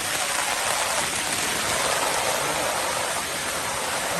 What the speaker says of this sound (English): And it's pouring down rain out here.